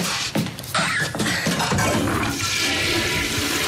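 A newly installed low-flow toilet, using five litres per flush, gives a loud, close rush and gurgle of water lasting several seconds, with no talk over it.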